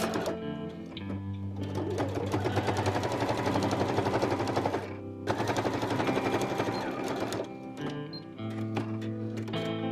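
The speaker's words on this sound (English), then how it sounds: "take our jacket over to our sewing machine and we are going to attach the front to the back of the jacket, sewing across the shoulders" A sewing machine stitches across the shoulders of a patchwork jacket made from an antique quilt, a fast, steady mechanical rattle and whir that runs almost continuously, with a brief stop near the middle before it starts again.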